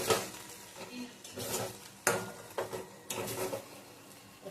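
Chicken masala with ginger-garlic-chilli paste, cashew paste and cream is stirred in a pan, with repeated bursts of scraping and a light sizzle that swell and fade in a loose rhythm.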